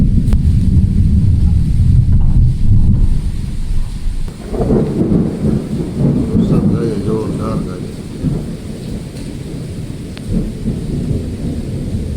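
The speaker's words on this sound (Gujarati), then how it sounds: "વરસાદ ગાજે જોરદારનો" Deep rumbling thunder rolls over steady heavy rain, with gusty wind buffeting the microphone throughout.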